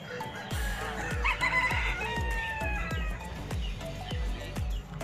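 Ornamental Pelung chickens crowing at a contest, several long drawn-out crows overlapping above a regular rhythmic thumping, close and fairly loud with no talk.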